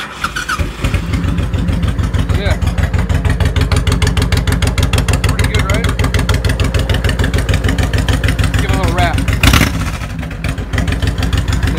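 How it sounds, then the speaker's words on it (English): A 2003 Honda VTX-1800-C motorcycle engine with about 56,839 miles idles loud and close after being started, a steady rapid throbbing pulse with one brief burst of revving near the end. "See you hear how great it sounds."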